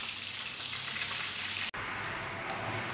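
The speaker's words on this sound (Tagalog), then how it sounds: "I-double fry ko nga po siya mga boss chip para mas lalo po siyang maging crispy." Chicken fillet for lemon garlic chicken is double-fried in hot oil, giving a steady, close, crackling sizzle that cuts out for an instant partway through.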